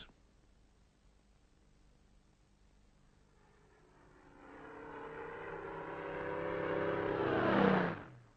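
A Supermarine Spitfire's piston engine grows from faint to loud as the aircraft approaches, its drone swelling steadily before peaking and cutting off abruptly at the end.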